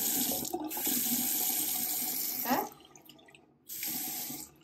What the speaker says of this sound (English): This is the faucet?